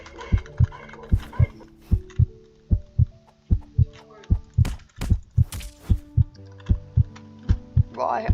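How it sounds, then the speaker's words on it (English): Heartbeat sound effect from the video game Jujutsu Odyssey: a steady, loud, deep double-thump pulse repeating throughout, over a low hum and scattered game tones and clicks. "I hear my heart beating"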